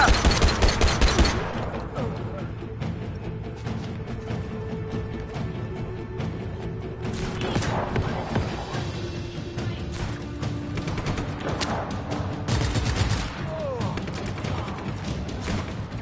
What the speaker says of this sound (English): Look at him trying to shoot at me.